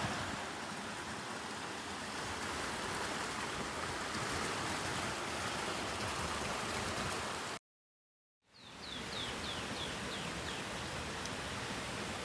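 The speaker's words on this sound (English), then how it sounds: "You might be able to hear the creek running in the background" A creek in Rattlesnake Canyon, Santa Barbara County, runs with a steady broad rushing wash at the edge of a riparian habitat. The flow cuts out briefly and then returns alongside faint high bird chirps.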